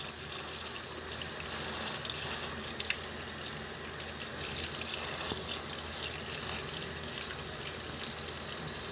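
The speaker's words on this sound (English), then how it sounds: "I'm running it under the running water and washing these seeds off" Tap water runs steadily over cantaloupe seeds being rinsed by hand, a continuous close hiss and splash in a sink with small shifts as the seeds are moved under the stream.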